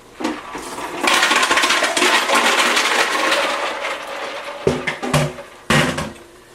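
Water and ice pour out in a rushing splash, followed by several sharp clattering knocks of ice cubes falling and hitting a hard surface.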